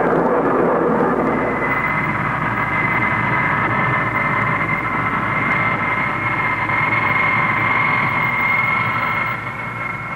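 Military jet aircraft in flight with a steady, loud, broadband engine roar and a whining tone on top, continuous throughout and easing slightly toward the end.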